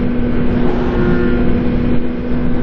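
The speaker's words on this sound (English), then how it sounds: "That was a really nice flyby. His exhaust sounds pretty good." Car exhaust roaring during a close flyby, a loud, steady, rumbling engine drone with a strong low tone that holds through the whole passage with no talk.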